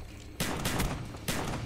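Gunfire in the video game Call of Duty Black Ops: two loud bursts of shots, the first lasting about a second, a second burst following shortly after, with no talk over them.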